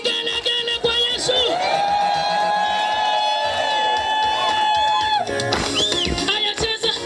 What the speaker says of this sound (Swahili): wapi shangwe na vigelegele kwa Yesu?